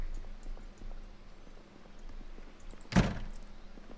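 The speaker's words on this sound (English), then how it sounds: "Close the door there." A single sharp thunk of a door closing in the video game Project Zomboid, close and clear above a faint low background.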